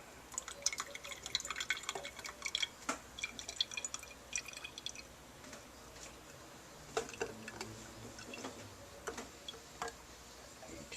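Water drips steadily into an empty beer can, a quiet irregular patter of small ticks and plinks with no talking.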